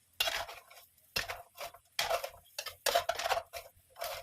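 A metal cooking utensil is picked up and handled in a home kitchen while fried rice is being made, giving a run of sharp clinks and clatters against pots and pans, close and fairly quiet, with no talk.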